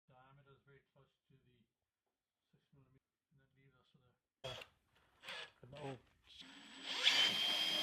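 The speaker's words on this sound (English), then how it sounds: "we'd come across this really neat square drilling guide that came in really handy here" A power drill bores into wood through a square drilling guide while engine boxes are being built, coming as a short, rising burst near the end after people talk and the background goes quiet.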